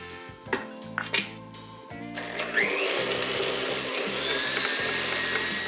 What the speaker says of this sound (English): that's been blending for about a minute. You really want to incorporate both of those eggs into that butter and sugar mixture